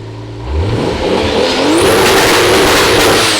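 A Toyota 2JZ engine revs hard on a dyno, climbing steeply from a low idle into a loud, sustained high-rpm scream with a whining tone that holds steady near the limiter.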